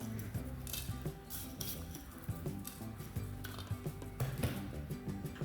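Large bilimbi fruits are chopped into small pieces, with irregular crisp cuts and light clinks of a blade and dish, close and fairly quiet.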